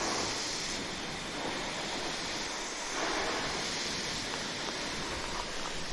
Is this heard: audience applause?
no